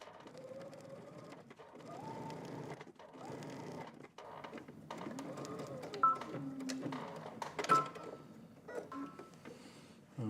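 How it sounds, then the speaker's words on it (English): A sewing machine stitches along a garment seam in several short runs, its whirring motor rising and stopping between bursts, close and clear with small mechanical clicks. "I'm just stitching on this side of the seam all the way to the other corner"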